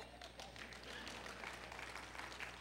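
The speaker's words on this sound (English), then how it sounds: "Clap for yourself." Audience applause at a business and finance presentation, a steady wash of many hands clapping for about two and a half seconds, moderately distant and fairly quiet.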